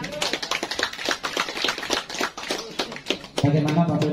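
Audience of a Sasak village gathering in Lombok clapping in a dense burst of many hands for about three and a half seconds, close and lively, before voices take over at the end.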